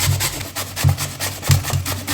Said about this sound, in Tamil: மாங்காவை திருவிக்கலாம்.